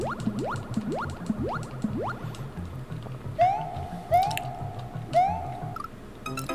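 Cave water in a retro Nintendo game drips as short electronic plinks over a bouncy chiptune bassline, with a few rising chirps and repeated trilling effects toward the end.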